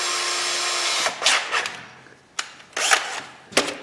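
A drill spinning a small carbide burr during a Mazda Miata MX-5 clutch replacement, a steady whine that gives way to several short bursts of grinding against metal, close by and moderately loud.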